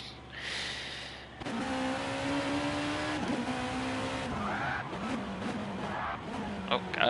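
Race cars brake into turn one at the Nürburgring in GT Sport, engines roaring loud and near with downshifts and squealing tires as the revs rise and fall, no speech over it.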